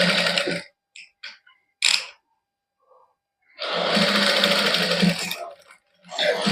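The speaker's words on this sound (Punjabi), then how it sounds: "ਹੌਲੀ ਹੌਲੀ ਸਿਲਾਈ ਲਾਉਣੀ ਹੈ ਇੱਕੋ ਜਿਹਾ ਵਿੱਚ ਦੇਣੀ ਹੈ ਲੈਸ ਕਿਤੇ ਵੱਧ ਘੱਟ ਨਹੀਂ ਕਰਨੀ" A sewing machine stitching net lace onto a printed suit, running in bursts of steady whirring that stop and restart, close up with short pauses and small clicks between runs.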